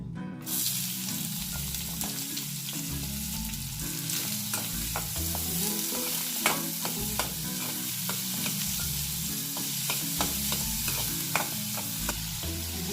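Onion hitting hot oil in a pan, a steady loud sizzle with scattered crackles and pops, stirred now and then over about thirteen seconds, close up with nobody talking.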